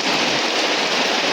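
Rain pouring steadily in a village, a dense, loud, continuous hiss of falling drops that cuts off abruptly at the end.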